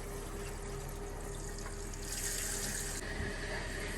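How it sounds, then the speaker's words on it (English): Water runs steadily through a toilet's water supply line while it refills after a flush valve replacement, a continuous close rushing hiss that swells slightly midway and carries on alone. "Okay, open the water supply."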